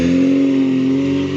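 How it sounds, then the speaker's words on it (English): A Hillman bubble car drives past, its small engine giving a steady, fairly loud drone that tails off at the end, with people talking over it. "There goes the Hillman Superman. Cute little bubble car."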